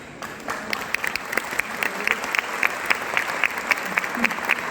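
An audience at a professional seminar claps steadily for several seconds, a dense patter of many hands under a faint voice.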